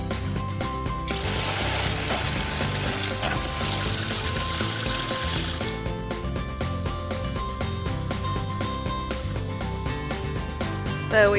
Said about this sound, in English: So we've watered our little seedlings